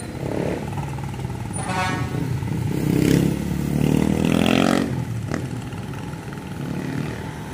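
A motorcycle tricycle passes along a street in Bohol, its engine rising and swelling nearby then fading, with a couple of short horn toots amid general street traffic.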